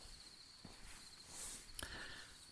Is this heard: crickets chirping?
yes